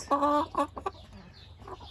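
Hens cluck in short harmonic bursts inside a mixed coop, one loud call up front, then scattered softer clucks and rustling close by.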